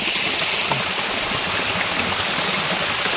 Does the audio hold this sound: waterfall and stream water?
yes